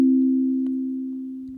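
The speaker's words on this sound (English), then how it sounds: "So all I really need is a sine wave to start off." A pure sine wave synth tone plays in Ableton Live 11, a single steady low note held alone and slowly fading over under two seconds.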